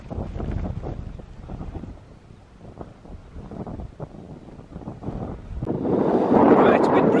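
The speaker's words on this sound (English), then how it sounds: "Right, it's a bit breezy this morning." Gusty wind buffets the microphone at a wild camp in the fells, rumbling in uneven waves that swell louder toward the end.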